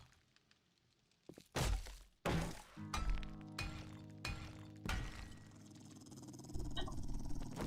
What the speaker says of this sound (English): That is the most horrendous sound in the world, those fucking dogs.